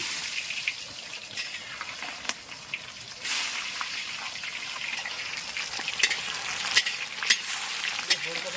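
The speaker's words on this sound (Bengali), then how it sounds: "ফোড়নে পেঁয়াজ দিয়ে দিচ্ছি।" Chopped onions dropped into hot oil already tempered with whole cumin seeds, sizzling and frying steadily and fairly loud throughout, with a few sharper crackles and stirring bursts toward the end.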